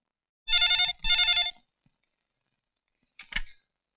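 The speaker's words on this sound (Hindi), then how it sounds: "सर, अर्जुन का फोन" A telephone in a Hindi action film rings in two loud, bright electronic trilling bursts, then a brief clunk as the handset is picked up.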